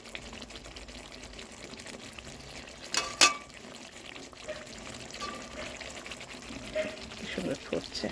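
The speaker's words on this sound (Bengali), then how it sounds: "সুন্দর ফুটছে," Milk pointed gourd curry (dudh potol) boils in a pan on a gas stove, a steady soft bubbling simmer with a brief louder clatter partway through.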